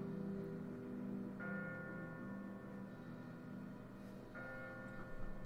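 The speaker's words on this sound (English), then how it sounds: "The bell tolls." A church bell tolls in The Walking Dead video game, two resonant strikes several seconds apart ringing out over a steady low background hum, faint and distant with no talk.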